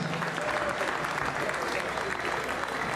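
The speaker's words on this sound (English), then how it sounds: "Round of applause for the ladies." A room applauds female boxers at a fight press conference, sustained clapping throughout with a voice talking faintly underneath.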